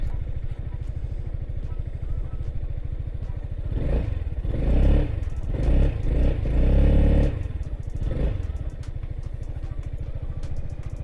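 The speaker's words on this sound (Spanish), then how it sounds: "La arranco para que lo oigáis, aunque es un sonido de scooter normal y corriente" A 2021 Yamaha XMAX 300 scooter's engine starts, then settles into a steady low idle with a brief swell of revving in the middle. It is close and fairly loud, with nobody speaking over it.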